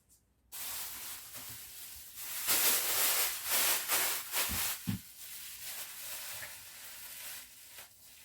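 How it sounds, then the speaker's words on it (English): Spray paint can hissing over a wooden bug hotel, with steady spray bursts lasting several seconds after a brief quiet start, close and fairly loud. "I can then spray paint it"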